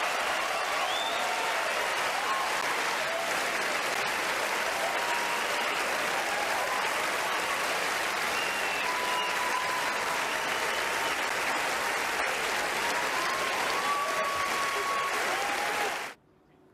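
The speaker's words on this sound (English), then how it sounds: "Raucous applause for a child rapist of a 13-year-old he gave drugs and alcohol to?" Oscars audience applauding loudly as Roman Polanski's name is announced for The Pianist, a dense, steady roar of clapping and cheering lasting about sixteen seconds before cutting off abruptly.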